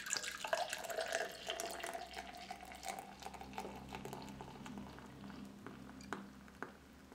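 Viedi Eņģeļu Kaislības, a Latvian passion fruit beer, is poured into an English pint glass, giving a steady close trickle and splash of liquid with light fizzing, fairly faint.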